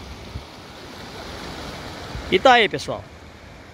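River water flows steadily into the Castanhão reservoir after the dam gates are opened, a broad, continuous rushing wash heard up close. Someone speaks briefly over it near the end.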